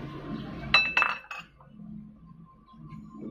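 Prawns dropped into a white bowl give a few quick, close clinks in a short cluster, then the room falls to a quiet murmur.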